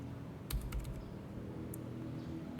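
Quick tapping on a computer keyboard while entering a spreadsheet formula, a short close cluster of key clicks over low steady room noise.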